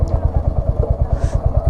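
A Royal Enfield Hunter 350 motorcycle engine running on a road ride: a loud, close, steady thumping single-cylinder pulse with even rapid beats and some clatter, with a voice faintly present.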